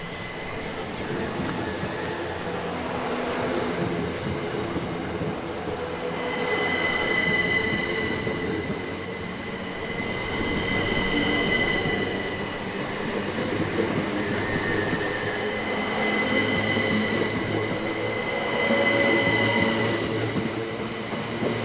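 Two coupled Class 375 Electrostar electric trains pull away from Tonbridge station on a Hastings to Charing Cross service, a steady rolling rumble with wheel squeal and a whining motor tone that swells and fades in waves, close by and continuous.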